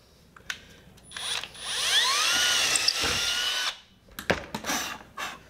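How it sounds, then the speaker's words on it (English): A power drill whirs for about two seconds, its pitch rising as it bites into a stainless steel bolt, with short clicks and taps before and after. "Drill it out."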